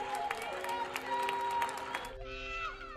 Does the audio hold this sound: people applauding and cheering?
yes